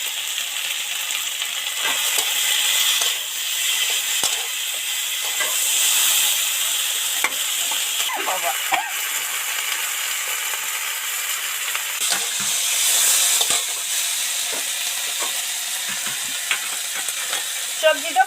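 Spices sizzle and fry in oil for an ivy gourd greens (telakucha shak) dish with a green chilli, with steady hissing and occasional scraping stirs and clinks of the spoon throughout.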